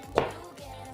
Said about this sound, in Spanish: de ahí la vamos a picar rapidito, vean